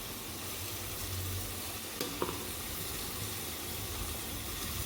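Sugarcane juice simmers in a pot for Amritsar-style sugarcane kheer, giving a steady, moderate bubbling hiss throughout, with a couple of brief clinks near the middle.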